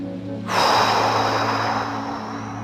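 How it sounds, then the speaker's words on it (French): Breathing in through the nose and out through the mouth during a beginner qi gong session, a close, soft rushing breath that swells suddenly and then holds as a long steady airy exhale, with no talk. "On inspire par le nez et on expire par la bouche."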